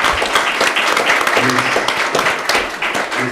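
An audience at a property inheritance panel discussion gives a round of applause, a continuous patter of many hands clapping at fairly loud volume for a few seconds.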